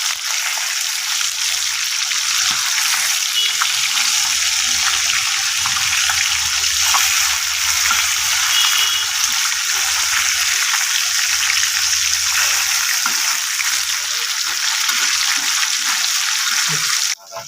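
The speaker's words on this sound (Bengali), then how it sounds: "মাছটা আমি তেলে ছেড়ে দিয়েছি, এখন আমি পাল্টিয়ে দেবো" Pieces of boal fish frying in hot oil in a pan, a loud, steady crackling sizzle that runs unbroken throughout, close up and with no talking over it.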